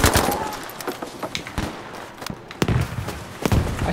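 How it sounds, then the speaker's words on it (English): Gunfire crackles through a Battlefield V multiplayer match, several sharp shots and short bursts scattered across the moment, some close and punchy, others farther off, with no talking over them. "I still hear shooting right here"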